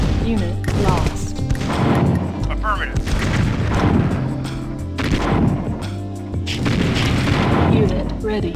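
Deep booming blasts of a nuclear weapon detonating in a strategy video game, a dense rumbling wall of explosions and gunfire lasting several seconds, mixed with game voice announcements.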